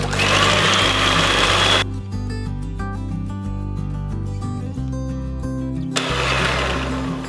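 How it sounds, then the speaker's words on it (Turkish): Electric mixer whisking cream into a cheesecake filling, a loud whirring motor at the start and end with a quieter stretch between, steady and close. "Şimdi üzerine kremayı ekliyorum. Şimdi 2-3 dakika kadar çırpacağım."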